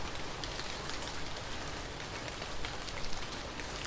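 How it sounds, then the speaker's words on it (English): Steady cold rain pours in a dense, unbroken hiss across the whole stretch, falling on surfaces with a constant patter, fairly close and even in loudness with no voices. "the rain had begun again, a cold, steady rhythm"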